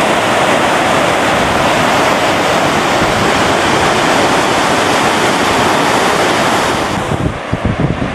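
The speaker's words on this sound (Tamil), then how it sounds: "அதனால் அதிகமாக நீர் வெளியேற்றப்படுவதால் வழிபாட்டுத் தலங்கள் குடியிருப்புகளை மூழ்கடித்தவாறு தண்ணீர் கரை புரண்டு ஓடுகிறது." Floodwater from heavy rain in Madhya Pradesh surges over the banks, submerging homes and places of worship; a loud, continuous roar of rushing water fills the whole span, easing slightly near the end.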